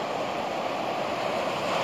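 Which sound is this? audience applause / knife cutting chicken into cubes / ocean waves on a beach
ocean waves on a beach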